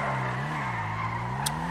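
A car in GTA V skids and flips over, giving a steady engine drone with tire noise and a brief sharp scrape near the end, loud and close.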